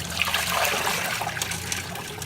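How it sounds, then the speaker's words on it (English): Dirty water is poured out of a fish tank, splashing and gurgling in a short close trickling stream that tapers off after a couple of seconds. "So then you just pour it out."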